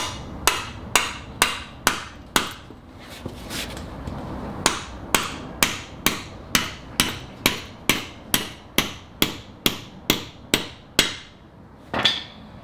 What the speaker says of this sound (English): get a mallet and just hold it steady like this and just pound it home